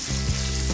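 KFC chicken frying to order in hot oil, a steady dense sizzle with low bubbling, close and continuous without any talk.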